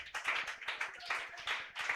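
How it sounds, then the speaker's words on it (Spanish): A church congregation claps together in steady, fairly dense bursts, loud and close, with no voices over it. "Aplauda la victoria del Calvario"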